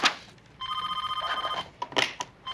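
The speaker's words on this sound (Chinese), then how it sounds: "电话接一下，急事儿，快接一下" An office telephone rings with a bright electronic trill, repeating in a steady pulsing pattern at moderate distance, followed by a few short clicks and thumps.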